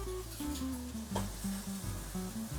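Pork steaks sizzling on a grill, a steady close crackle and hiss that runs unbroken beneath some clinking and stirring sounds.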